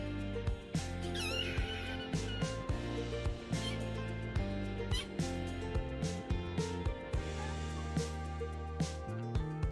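Kittens meowing now and then over a steady bed of music, thin high mews rising briefly above it at a modest distance, with no talk.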